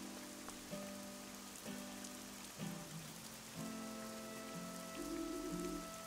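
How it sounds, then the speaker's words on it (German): Rain patters steadily across the scene in the survival game Fall of Porcupine, a soft continuous hiss of drops on surfaces beneath sustained musical tones, with no talking. "Ich habe doch gesagt, dass es regnen wird."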